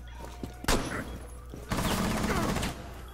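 Gunfire in Rainbow Six Siege, with a sharp burst near the start and then a longer, dense spell of rapid shots lasting about a second, over constant game noise.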